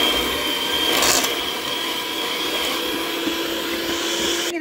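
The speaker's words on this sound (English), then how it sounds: "I'm going to mix the cocoa together in the butter mixture." An electric mixer blends cocoa into a butter mixture for a chocolate pound cake, a steady whirring hum with scraping against the bowl, close and continuous.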